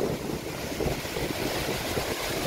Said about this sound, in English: Wahkeena Falls.